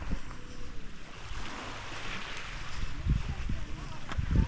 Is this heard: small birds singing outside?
no